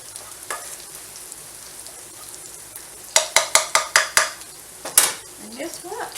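Garlic and onions cook in a pan with a low background sizzle, then a run of sharp metallic utensil taps and scrapes against the pan, loud and close, followed by quieter stirring.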